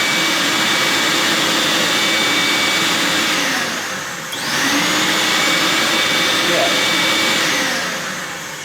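A Chip Super Cyclone dust collector runs with a loud, steady whooshing roar and a constant whine that dips briefly midway before recovering and then tapers slightly at the end.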